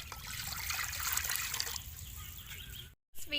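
Water poured into a cooking pot for a countryside soup, a steady splashing trickle heard close up for about three seconds before a brief gap.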